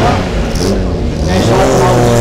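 A six-cylinder race car engine starts, roaring and revving up close, loud and rumbling, with someone talking over it.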